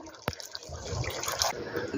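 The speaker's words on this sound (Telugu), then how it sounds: "కొద్దిగా వాటర్ వేయాలి." A short splash and trickle of water poured into a simmering stew pot, close and fairly quiet, with faint drips and kitchen noise.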